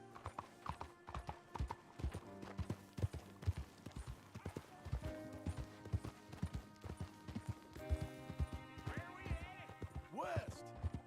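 A horse's hooves clip-clop in a steady, close rhythm while the rider travels in a western setting, with a few whinnies and snorts near the end and people talking over the ride.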